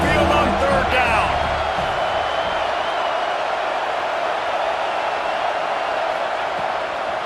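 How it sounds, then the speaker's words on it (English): A steady, loud roar from a stadium crowd at Saban Field during an Alabama football game in College Football 26, a broad wash of noise that holds throughout, with a brief voice at the start. "The Tide crowd rolling noise down onto Saban Field on third down."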